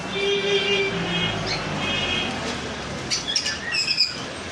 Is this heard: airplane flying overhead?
no